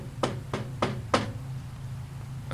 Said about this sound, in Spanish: Alguien tocó a la puerta y nos sacó de repente de las historias